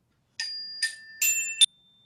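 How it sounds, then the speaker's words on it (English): A small handbell is struck four times in quick succession, each bright metallic ring clear and close, with the last tone briefly lingering before silence. "I'm going to ring the bell and your partners are going to follow"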